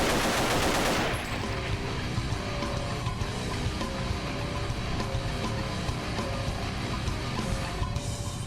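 Sustained automatic AK rifle fire in the video game Paranoia, a loud opening burst followed by continuous rapid gunfire with no talk.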